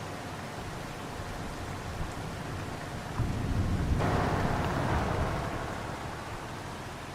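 Steady rain in the farming video game Farming Simulator 25 on the Aussie Nulla Creek map, a broad continuous hiss that swells louder midway through before settling back, with no voices.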